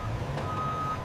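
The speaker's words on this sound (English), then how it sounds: "50 trucks a day line up to take this cargo across America." A truck reversing at a factory loading dock gives a steady high-pitched backup beep over low engine rumble, heard briefly and close.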